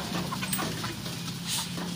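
Live chickens at a market, soft scattered clucking set against a busy, noisy background.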